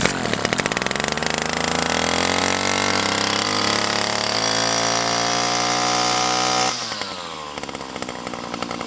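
A Baokaler GRM520 52cc brush cutter engine starts up and runs at a loud, close, high-pitched two-stroke buzz, then drops in pitch and volume as it settles toward idle.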